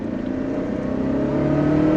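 A Lancia Delta Integrale rally car accelerates from inside the cabin. The engine note swells steadily louder over two seconds as it pulls, and no one speaks.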